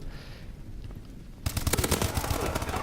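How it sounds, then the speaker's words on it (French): Rapid automatic bursts from the HBR A3 assault rifle in Call of Duty: Advanced Warfare on PS4, loud sustained rattling fire starting about halfway through after quieter game ambience. "Donc là je joue avec fusil d'assaut, donc l'HBR A3, qui est une arme plutôt pas mal."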